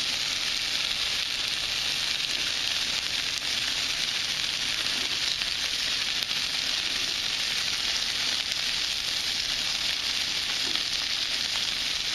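Breaded chicken wings fry in oil on a Blackstone flat-top griddle, giving a loud, continuous, close sizzle with fine crackling that holds steady throughout, no voices.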